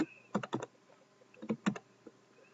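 Quick bursts of keystrokes on a computer keyboard as a name is typed into a web form field, two short clusters of clicks separated by a pause, close and fairly quiet, with no talking.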